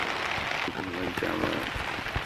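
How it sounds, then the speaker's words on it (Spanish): Heavy rain pounds a tent in the jungle, a dense, continuous hiss of drops close overhead that stays even throughout. "Está lloviendo durísimo."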